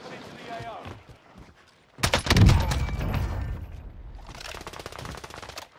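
Bursts of rapid gunfire from the Lapa submachine gun in Call of Duty: Warzone on Rebirth Island, a dense volley after a quieter start, loud and close, followed by softer continuing game noise, with talking at times.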